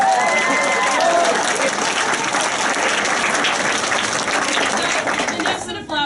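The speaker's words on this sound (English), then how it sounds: "so another round of applause." Sustained, dense applause from a theater audience during a post-show thank-you round, loud and even before tapering off briefly at the end, with a few voices and cheers mixed in early.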